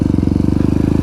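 Yamaha WR250X (2009) motorcycle engine revving close by, a rapid pulsing low-pitched exhaust beat held steady and loud through a short burst.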